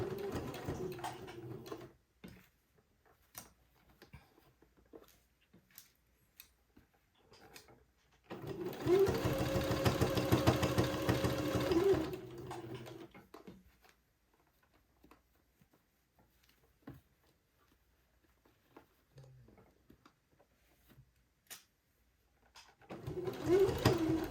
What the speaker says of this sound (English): now I'm going to sew right on the line that I sewed before